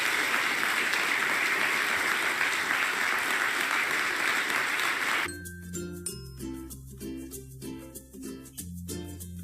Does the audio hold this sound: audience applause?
yes